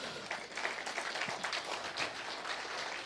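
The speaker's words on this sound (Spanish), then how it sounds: "Dele un aplauso al Señor, amén." A church congregation applauds together, giving dense, even clapping that stays at a moderate level throughout with no voices on top.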